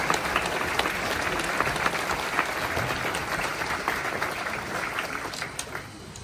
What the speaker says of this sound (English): Please join me in a round of applause for our retiree and their families.